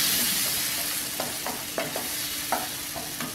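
Spice powder frying in oil with potatoes, a steady bright sizzle close up, punctuated by about half a dozen short scraping stirs of a spoon against the pan.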